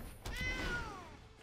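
A game cat meows once, a clear rising-then-falling call lasting about a second, as the Sacred Cat card is played in the digital card game MTG Arena, with a faint thump at the start.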